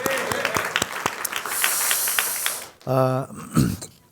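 Congregation applauding at a worship service, a dense patter of clapping that swells and carries for a couple of seconds before giving way to other sounds and a brief voice.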